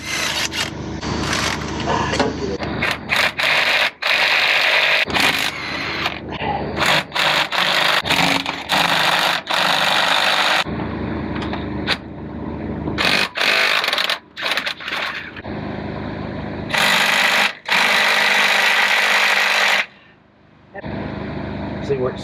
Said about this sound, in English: We'll start taking these bolts out right here.